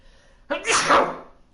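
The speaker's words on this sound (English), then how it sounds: "Thought I was going to sneeze there for a second." A single sudden human sneeze, close and loud, bursting out of near silence and trailing off after about a second.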